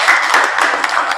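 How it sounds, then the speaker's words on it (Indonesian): Brief burst of classroom applause for a student group during a teaching practice lesson, many hands clapping loudly and densely together in a short steady wash. "tepuk tangan untuk kelompok 1."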